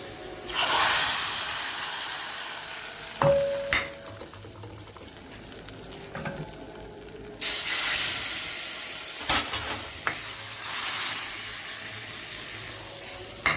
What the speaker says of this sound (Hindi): अब इसके ऊपर तड़का लगाऊंगी